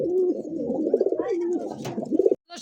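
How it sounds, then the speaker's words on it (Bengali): A satinette fancy pigeon coos close by in a continuous, throaty, warbling stream of rolling notes that breaks off abruptly near the end. "দর্শক এই মুহূর্তে দেখতে পাচ্ছেন কি ঝর্ণার শাটিনের কিন্তু একটা নট ডাকতেছে।"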